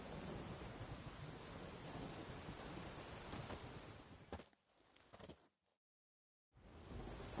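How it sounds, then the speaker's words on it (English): Steady heavy rain with rumbling thunder fills a stormy scene in The Witcher 3, loud and continuous for several seconds before cutting out briefly to near silence, then returning. "There's no point standing here in the rain."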